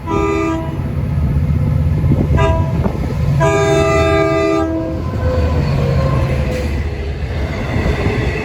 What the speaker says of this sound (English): Here comes train 654 at 4:43